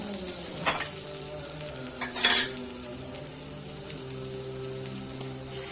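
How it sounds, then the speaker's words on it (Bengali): Continuous sizzle of potatoes frying in a pan, broken by a couple of louder metallic scrapes of stirring; steady and close, no speech. "আলুগুলোকে একটু ভালো করে ভেজে নেব"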